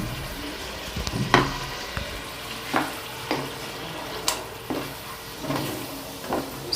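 Lamb karahi in Pakistani Shinwari style sizzling and frying in a pan just after yogurt goes in, with a steady hiss broken by repeated scrapes and stirs of a spoon at roughly one-second intervals.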